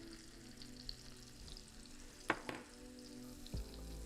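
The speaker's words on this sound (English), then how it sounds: "as the onions are cooking" Onions cook in a pan with dried thyme and black pepper, giving a soft, steady sizzle with a few brief clinks and stirring scrapes, heard quietly and alone.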